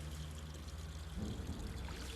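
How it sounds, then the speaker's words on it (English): Water from the Dnipro river pours into bottles in war-damaged Kherson with a continuous gurgling splash and trickle, close and steady, sitting faint behind a low background rumble. "That's why they're filling bottles from the Dnipro"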